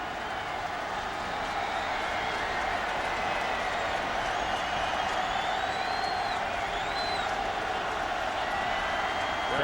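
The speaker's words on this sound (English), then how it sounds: "Crowd trying to make some noise." A football stadium crowd at a Marshall versus Tennessee game roars in a steady, broad wash of noise with scattered whistles and shouts, while a commentator talks over it.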